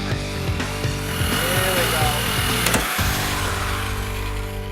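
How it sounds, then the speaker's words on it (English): Electric shears built to cut cold rolled steel and aluminum chew through a metal base with a loud, close, harsh crunching grind and whining tones, briefly easing off midway before resuming. "electric shears that can cut anything from cold rolled steel to aluminum"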